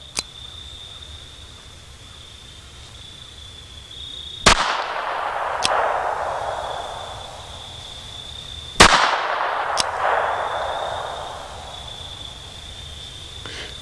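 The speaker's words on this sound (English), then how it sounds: "let's shoot the gun, let you see just how it recoils in your hand." Two sharp, loud revolver shots ring out about four seconds apart, each with a short echoing tail, over a steady high insect-like hum with no talk.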